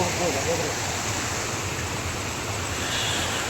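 Steady rushing water of a Malnad hill stream flows continuously, a broad full hiss with low churning underneath, close and fairly loud throughout.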